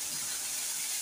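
Ginger-garlic paste frying in hot oil for a homestyle chicken kosha, a steady bright sizzle filling the pan with no pauses and no voices.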